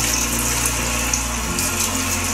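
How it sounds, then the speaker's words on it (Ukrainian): Cold boiled water runs steadily from a tap over blackberries in a colander, a continuous close rushing gush with a low pump-like hum that shifts pitch partway through, no voices. "включаю холодну кипячну воду"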